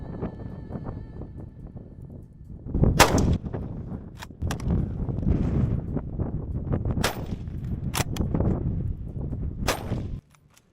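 Several sharp rifle shots crack out during a camel hunt in the Australian outback, spaced irregularly over a steady wind-buffeted, rumbling background, each report loud and close with a short echoing tail.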